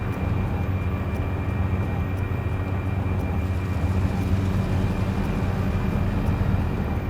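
Inside a helicopter flying over Kenyan terrain, a loud, constant engine and rotor roar fills the cabin. The drone is dense and unbroken, with no voices.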